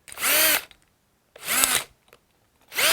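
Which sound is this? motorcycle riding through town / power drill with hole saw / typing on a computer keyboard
power drill with hole saw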